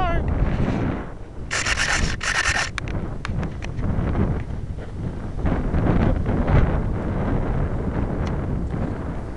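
Wind buffets a keychain camera mounted on a small F-16 model plane outdoors, giving loud, steady low rumbling with gusty swells and a brief hissy burst partway through.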